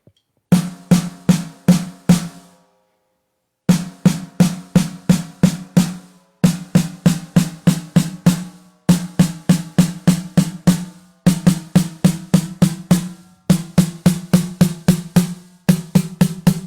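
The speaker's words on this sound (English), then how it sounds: "So here's the sound of the snare drum," Roland V-Drums electronic snare pad struck in bursts of about five to seven quick hits each, with short pauses between. The pad is close and punchy, its tone shifting slightly between groups, and no voice is heard.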